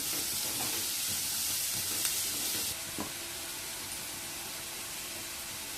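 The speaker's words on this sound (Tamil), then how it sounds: "கொஞ்சமாக வெங்காயம் வதங்கிறதுக்கு உப்பு போட்டுக்கலாம். வெங்காயம் கொஞ்சம் நேரம் வதங்கட்டும்." Onions sautéing with salt in a pan give a steady, close broadband sizzle throughout, with a few faint scrape or stir clicks, easing slightly in loudness partway through; no voices.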